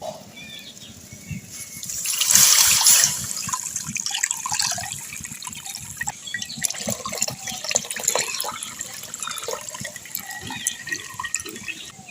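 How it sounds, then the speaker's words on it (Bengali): Milk being strained into a wok that holds a little water, a steady trickling pour with small drips, louder near the start and then settling into an even stream. "এবার আমি দুধটা ছেঁকে নেব।"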